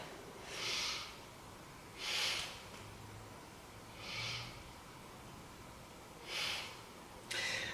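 Slow, deep yoga breaths come through the nose and mouth, five soft airy rushes spaced about two seconds apart, close and quiet against a faint room hum.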